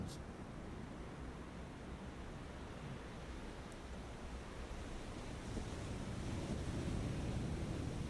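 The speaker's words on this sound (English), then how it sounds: "And the sound of the waves" Ocean waves churn steadily in the wake behind an Iowa-class battleship at sea. The broad wash of surf noise is continuous and fairly distant, mixed with wind rumble throughout.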